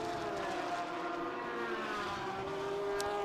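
A race car at a Road Atlanta SpeedTour event rolls down pit road toward its pit box, giving a steady, moderately distant engine drone with a faintly rising pitch.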